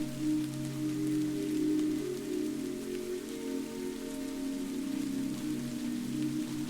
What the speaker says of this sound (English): You feel the soothing weight of this quiet night, this gentle rain